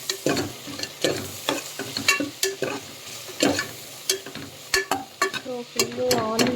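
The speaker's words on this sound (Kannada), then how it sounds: "ಕೊಬ್ಬರಿ ಎಣ್ಣೆ ಹಾಕಿರೋದ್ರಿಂದ ನೊರೆ ಬರ್ತಾ ಇದೆ ಆಯಿಲು." Tomato frying in foaming coconut oil while being stirred, with irregular scrapes and clanks of the spoon over a steady close sizzle, no voices.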